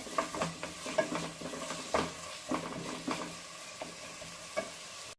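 Ginger garlic paste frying in a pan for paneer kofta, a steady low sizzle broken by repeated scraping stirs of a spoon against the pan, close and moderately quiet with no talking.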